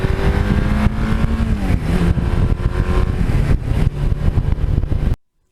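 A Suzuki GS1100E motorcycle rides along with a loud, continuous engine drone and wind rush whose pitch shifts slightly as it goes, then cuts off abruptly.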